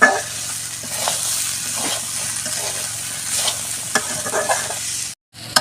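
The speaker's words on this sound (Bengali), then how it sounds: "লঙ্কা গুঁড়ো দিয়ে দেওয়ার পরে ওটা ভালো মতন বেড়ে দেবো" Masala with chilli powder frying and being stirred in a pan for a Bengali lunch dish, a steady close sizzle with repeated scraping strokes of the spoon, continuing until a brief cut near the end.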